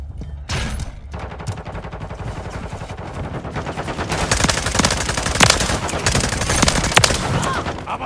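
Sustained automatic gunfire from a shooter video game, dense rapid bursts of shots running nearly continuously and growing louder toward the end, with in-game voice callouts faintly mixed in.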